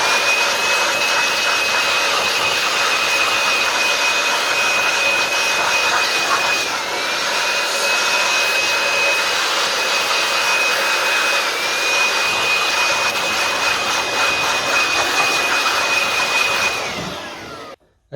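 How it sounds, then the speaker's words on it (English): A Makita blower blowing dust out of the engine bay of a 1.6 HDi Citroen Berlingo Multispace, a loud steady high-pitched whine and rush of air held close for the whole stretch before cutting off abruptly. "I'm going to get me a little Makita blower and I'm going to blow it out"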